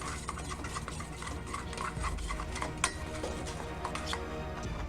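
Hoisin glaze stirred in a bowl, a run of quiet clinking and scraping taps from a utensil against the bowl, fairly close and faint, with no speech.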